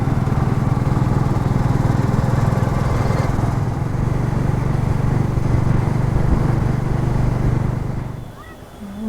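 A motorcycle rides through Chandigarh city traffic, its engine a loud, continuous buzzing drone that holds steady and then drops away sharply near the end.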